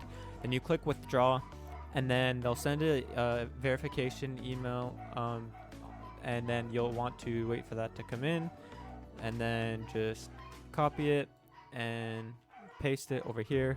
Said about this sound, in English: Sorry about the dogs in the back.